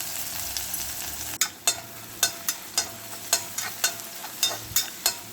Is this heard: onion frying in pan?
yes